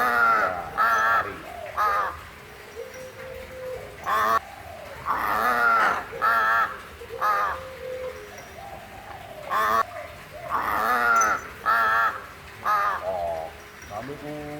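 A tame crow tethered on a string gives repeated harsh, close caws in short bursts with brief gaps between calls.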